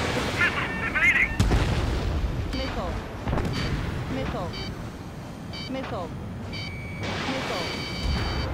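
Missile explosions in the Ace Combat 7: Skies Unknown air-combat video game: a dense rumbling barrage of booms and bursts under continuous engine roar, with several sharper hits and faint radio voices and beeps mixed in.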